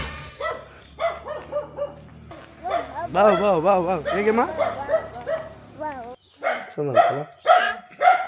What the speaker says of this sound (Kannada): ಬೊಗಳು ಶಬ್ದ ಕೇಳಿಸ್ತಾ ಇರ್ತದೆ